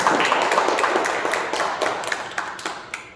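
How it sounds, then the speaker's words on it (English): A room of meeting attendees claps in a brief round of applause, a dense patter of hand claps that starts strong and gradually thins and fades over about three seconds. "big round of applause I need"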